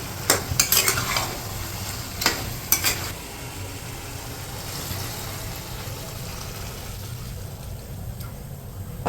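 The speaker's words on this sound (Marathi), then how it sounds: "ते गाजर टाकते आता." Carrots for gajar halwa tumble into a pan, then a spoon stirs and scrapes them over a steady low sizzle. A few sharp utensil clatters come early, followed by continuous soft frying and stirring with no talking.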